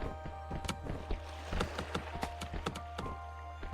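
Horses hauling logs in the video game Kubifaktorium, heard as a rapid series of light hollow clip-clop hooves and knocks over a steady low game hum, fairly close and regular, with no talking.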